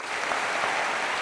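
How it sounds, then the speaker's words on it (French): Brief burst of audience applause at a stand-up comedy show, a thick, even patter of many hands clapping throughout. "Applaudissez-moi."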